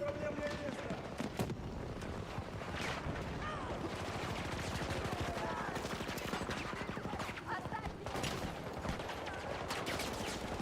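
Battlefield 6 video game gunfire crackles in rapid, overlapping shots and bursts at a steady moderate level, with a voice talking over the continuous firefight.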